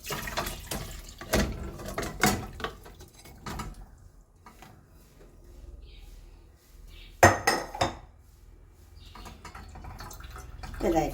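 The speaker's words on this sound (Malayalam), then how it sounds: "എന്നിട്ട് ഇനി വെന്ത ചിക്കൻ നമുക്കൊന്ന് അരിച്ചെടുക്കാം" Cooked country chicken soup strained into a pot, with clinks and knocks of metal utensils and pots, brief pouring and dripping, and a few loud clatters, heard close up with faint background voices.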